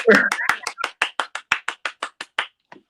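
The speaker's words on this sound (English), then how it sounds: "Just people clapping." Sparse handclaps in a radio studio during a live interview, about a dozen sharp, evenly spaced claps in a steady rhythm, close and fairly loud, with a brief voice or laugh at the start.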